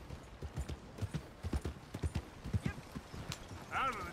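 Horse hooves clip-clopping in a steady rhythm in Red Dead Redemption 2, moderately close, with a brief whinny near the end.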